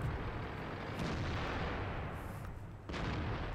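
Heavy tank gun fire from a Panther 8.8 cm in World of Tanks, a dense, sustained rumbling blast that fills the clip with a brief dip near the end before the roar resumes.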